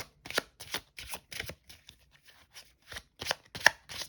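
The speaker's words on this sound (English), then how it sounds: "I'm gonna shuffle. Should probably shuffle a lot." A deck of tarot cards is shuffled by hand close up: a series of quick riffling bursts and soft slaps in an uneven rhythm, pausing briefly midway before picking up again, with no talking.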